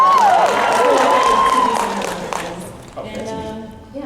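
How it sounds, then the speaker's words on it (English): Audience at a Demon Slayer convention panel at MEGACON 2023 applauding and cheering, a loud dense roar of clapping and whoops that fades over several seconds, with a voice speaking over it near the start. "Give it up for Abby Trott."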